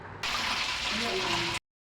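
Pieces of chicken fry in hot oil in a pan, making a loud, steady hiss that starts suddenly and cuts off after about a second and a half, with faint voices underneath.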